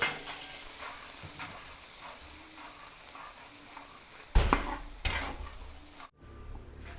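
Garlic, lots of it, sautéed in a pan with a little margarine, giving a steady low sizzle with faint stirring scrapes, then a louder burst of frying near the end before it suddenly drops away.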